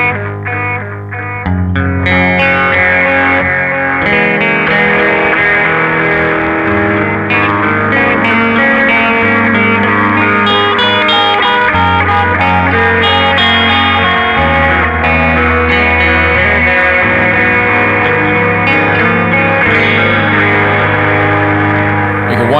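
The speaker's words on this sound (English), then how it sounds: "now we've got the Famulous overdrive distortion pedal in that effects loop on, again, the first delay, and it sounds like this" Electric guitar played through a Famulous overdrive distortion pedal in an effects loop with a Red Witch Titan delay, giving thick, sustained distorted chords and notes with repeating echo tails, loud and continuous throughout.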